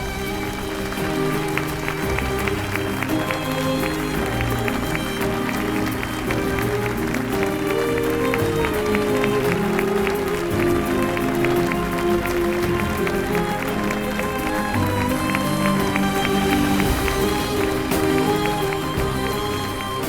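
A standing audience applauds in a dense, continuous roar of clapping, blended with music throughout.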